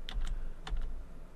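Two keys clack on a computer keyboard, the spacebar among them, a pair of quick close taps spaced about half a second apart in a quiet room.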